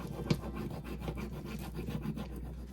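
Steady rasping rubbing over an iron-on transfer pressed onto thrifted clothing, a continuous close scratchy friction with slight rhythmic strokes.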